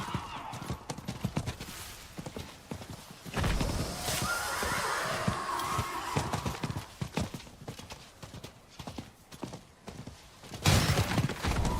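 A ghost horse in the video game Diablo 4, rapid hooves clip-clopping in bursts around a stretch of rushing noise, with a brief whinny-like cry near the end; moderately quiet, no talking.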